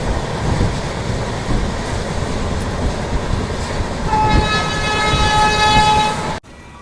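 Train pulling out of Hapa railway station on the Rajkot line, a loud continuous rumble of wheels on rails, then a sustained horn blast toward the end before an abrupt cut.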